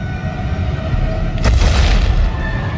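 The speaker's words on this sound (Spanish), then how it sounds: "De repente se oye un estruendo lejano. La tierra empieza a temblar." A sudden deep boom swells into a low, distant rumble as an earthquake begins, heavy bass rolling under a steady background drone.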